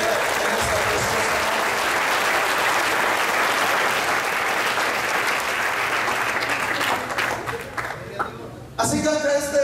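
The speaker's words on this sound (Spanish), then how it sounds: "al cual le pido le dé un aplauso fuerte en esta preciosa" A church congregation applauds loudly during a service, a thick, roaring wall of clapping for about eight seconds that thins out as a voice starts talking.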